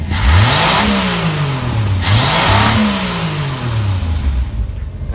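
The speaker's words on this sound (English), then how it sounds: "It's revving just perfectly fine" A car engine, freshly given its first oil change in three years, revs up and down twice in quick succession, its pitch rising and falling smoothly before settling into a lower, steady hum; loud and close.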